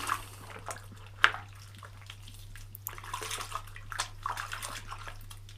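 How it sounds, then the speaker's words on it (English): A foam air filter from a nitro engine is rinsed and squeezed in water, giving quiet, intermittent splashes and drips over a low steady hum. "rinse it off, mush it out, drain your water"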